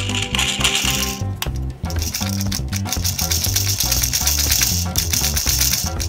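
A MokoWash candy washing machine toy spins with a steady mechanical rattle and ratcheting whir, plastic parts clicking rhythmically and loudly up close, with no talking over it.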